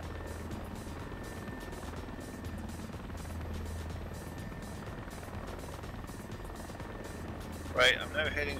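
A helicopter cruises over Corsica with a steady, loud rotor drone and low hum continuing throughout, with a brief louder burst near the end.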